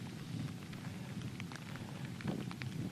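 Steady rain falls with a low rumble of distant thunder underneath, faint and continuous with no voices.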